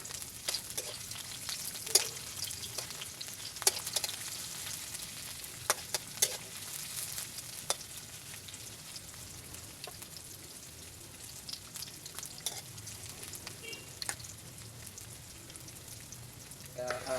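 Chopped onion hits hot oil in a pan with a steady, even sizzle, broken by occasional sharp pops and crackles, close and moderately loud, with no one talking.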